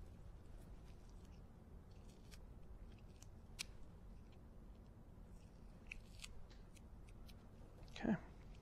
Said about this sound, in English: use the scissors to trim that